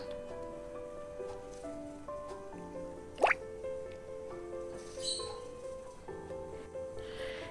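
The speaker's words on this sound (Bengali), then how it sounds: "জলটা গরম হয়ে গেলে ওই বাঁধাকপির পিসগুলোকে ওই জলের মধ্যে দিয়ে দিলাম" Cabbage pieces simmer in hot water seasoned with turmeric and salt, giving faint liquid drips and soft bubbling close by. A brief louder splash sounds partway through, over a quiet tonal background.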